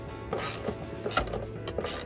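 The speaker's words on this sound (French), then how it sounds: "Serrez la fixation supérieure de l'amortisseur en utilisant une douille 16." A socket ratchet tightens the upper shock absorber mount bolt on an Opel Corsa D, with a 16 mm socket. It makes close, rapid, repeated clicking strokes under a low steady hum.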